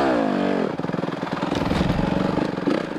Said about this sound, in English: time for the pit bike jump